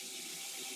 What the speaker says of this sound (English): Oh my gosh, look at that water pressure.